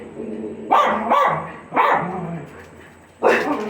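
Several dogs bark outdoors near a building, loud close barks in three bursts with short gaps between them.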